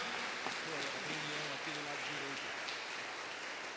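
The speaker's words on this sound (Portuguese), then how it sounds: "Mais uma vez, pode aplaudir o nosso Deus." Congregation applauding in a church during a Holy Communion service, a steady wash of clapping with a faint voice sustaining tones underneath, no individual claps standing out.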